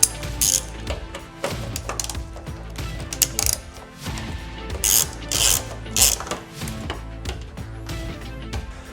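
A hand ratchet fitted with a T40 Torx bit tightens bolts while installing door locks on a RAM ProMaster van. It gives loud, close bursts of rapid clicking in several separate spells with short pauses between them.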